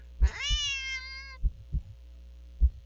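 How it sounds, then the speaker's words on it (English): A deep, drawn-out cat meow in a video game, rising then holding for about a second, set against low rhythmic thumps like a heartbeat and a faint hum, with no talk. "The cat meows at you again, but it sounds much deeper than earlier."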